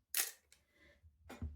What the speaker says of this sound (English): Shutter sounds fine,